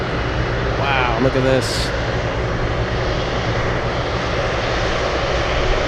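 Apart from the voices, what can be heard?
Boeing 747 Dreamlifter taking off, jet engines roaring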